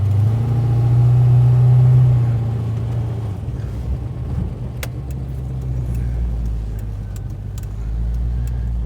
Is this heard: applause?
no